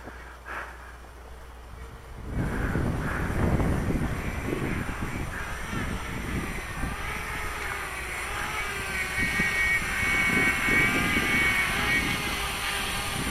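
A model airplane engine buzzes at full throttle in high wind, a steady droning whine over constant wind rumble, with crow caws nearby.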